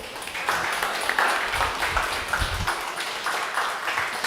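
An audience applauds at a show, with continuous, even clapping from a moderate-sized crowd heard at middle distance throughout.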